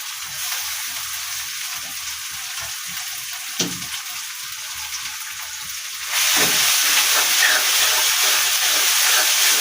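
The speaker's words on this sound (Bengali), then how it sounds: "দিয়ে আমি এটা নাড়তে নাড়তে ভালো করে মশলাটা বানিয়ে নিচ্ছি" Ginger and garlic paste masala fries and is stirred in a pan, giving a steady sizzling hiss with an occasional utensil knock; the sizzle swells noticeably louder partway through and stays loud.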